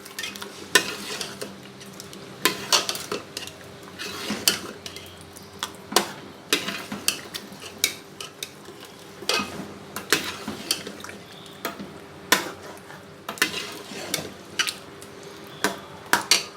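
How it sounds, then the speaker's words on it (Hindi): A spoon clatters and scrapes against a pot as yogurt is stirred into fried tomatoes and beef for spicy bhuna gosht, with repeated sharp metallic knocks over a low, steady sizzle. "अब इसके अंदर दही भी ऐड कर देती हूँ, तो अच्छी तरह मिक्स कर लेती हूँ।"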